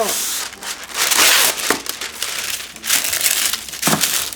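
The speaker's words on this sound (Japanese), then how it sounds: "そしたらクッキングシートを引いていきましょう。" Aluminium foil and parchment paper are spread out on a tray for baking a tofu meatloaf, giving loud, close crinkling and rustling in repeated bursts.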